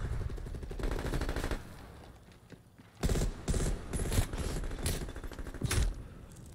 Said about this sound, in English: Oh, it's a sniper rifle. Damn, you shoot that thing quick.